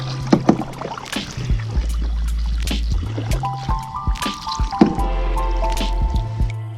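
Paddle strokes from a cheap fishing kayak on water: repeated splashes and drips in an uneven rhythm, close by, with creaks and knocks from the hull between strokes and no talking.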